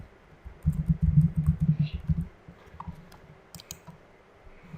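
Computer keyboard typing a variable name into a Scratch 3 project, a quick run of close clicking keystrokes in a burst lasting about a second and a half, then a few scattered taps, with no talking.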